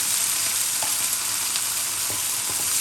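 Pomfret fish stir-fried over high heat with chili and Chinese celery gives a loud, steady sizzle close by, broken by a few soft scrapes and clatters from stirring.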